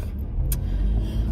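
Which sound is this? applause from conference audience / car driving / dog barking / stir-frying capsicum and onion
car driving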